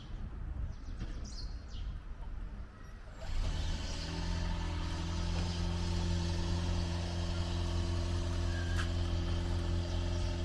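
A car engine rumbles steadily as the vehicle is turned around on a road in Kenya, starting quieter amid outdoor noise and then settling into a louder, continuous idle-like drone.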